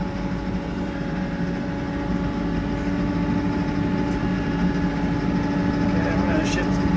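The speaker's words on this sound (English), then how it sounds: "So I'm going to shift this thing into four-wheel drive." TYM tractor engine driving through a hay field in four-wheel drive, a steady loud rumble that holds throughout with no break in the drone.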